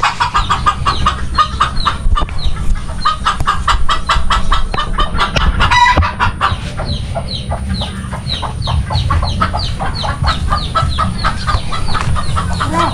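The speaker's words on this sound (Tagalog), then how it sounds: "Yung mga manok." Farmyard chickens cluck in quick, constant bursts, with a rooster crowing among them, all loud and close throughout.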